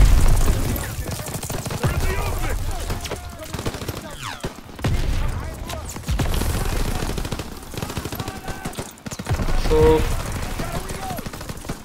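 Gunfire in the Call of Duty WW2 video game, dense bursts of machine-gun and rifle shots with booms through a chaotic battle, under shouted voices and talk.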